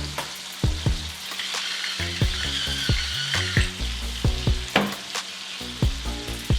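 Shrimp with Cajun seasoning, salt and pepper sizzle steadily in a frying pan. Repeated scraping tosses of a utensil against the pan break up the frying hiss, close and alone.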